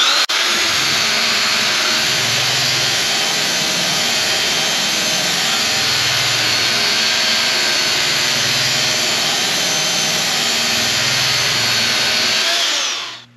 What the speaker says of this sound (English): I'm gonna belt sand this. Just give it a little bit of a smooth face so the router can follow it.